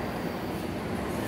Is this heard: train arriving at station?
yes